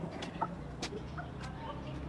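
Soft clucking from several roosters nearby, a few short scattered calls over a quiet background murmur.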